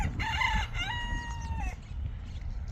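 Chickens on a desert farm in Saudi Arabia, kept alongside ducks and pigeons, with a rooster crowing loudly and close by over a low rumble of wind, followed by softer clucking.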